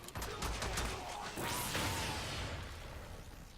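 The Euphona Prime gun in Warframe fires a heavy shot with a dense burst and sweeping whoosh, preceded by rapid clattering impacts, then a fading tail.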